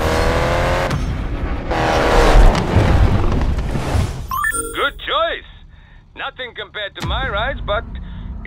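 Honda S2000 roadster with a VTEC engine revving hard while racing in Need for Speed Payback, a loud continuous engine roar in the first half, then rising and falling rev sweeps mixed with game voices talking.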